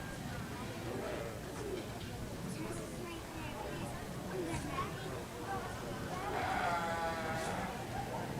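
Sheep bleating in the Wayne County Jr. Fair show arena, a few wavering bleats over a murmuring crowd and background chatter, one louder bleat near the end.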